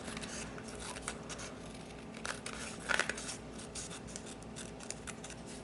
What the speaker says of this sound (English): now I'm going to bring in my scissors and I'm going to cut all of these extra pieces off